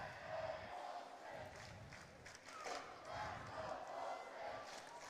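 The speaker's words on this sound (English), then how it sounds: "Well, they're cheering their goalie on." A hockey crowd at a boys' state semifinal between Hudson Raiders and USM cheers its goalie with a rolling, swelling roar of distant voices, faint and reverberant in the arena.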